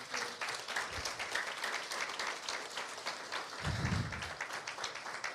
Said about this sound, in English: another round of applause for Mrs. Bryant, everybody.